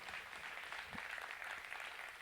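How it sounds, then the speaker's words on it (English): An audience at a business leadership event gives the speakers a sustained round of applause, a dense, even wash of clapping that runs throughout at moderate volume without any voices. "please, round of applause for our speakers"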